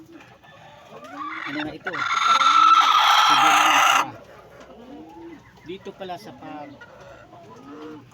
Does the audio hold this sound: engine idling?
no